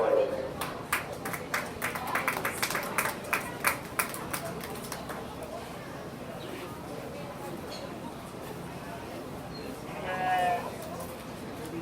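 Sheep bleat at a 4-H sheep and goat show, with a few scattered calls amid a murmuring crowd and clattering pen noise, and an announcer talks over much of it.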